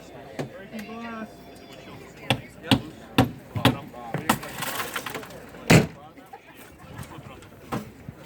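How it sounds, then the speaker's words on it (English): Firefighters break car window glass during an open-house extrication demo, with a series of sharp, loud strikes and cracks spread irregularly through the clip, a burst of shattering near the end, and a voice talking between the hits. "Breaking glass."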